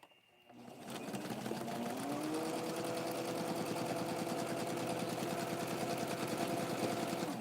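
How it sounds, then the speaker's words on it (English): Sewing machine stitching the upper back of a handmade doll dress, starting after a brief pause and then running steadily and loudly at an even, continuous speed to the end. "Now I'm going to sew the back part of, this is the upper back part of the dress."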